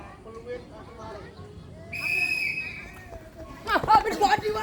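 A single sharp, sustained whistle blast of about a second, blown during a school physical-education fitness class, rising over a hubbub of children's voices and movement, with more bustle and talk afterwards.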